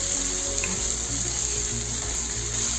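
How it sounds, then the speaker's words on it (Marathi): Finely chopped onion frying in a pan, a steady close sizzle with faint stirring and no talk. "आपला कांदा परतत आलेला आहे"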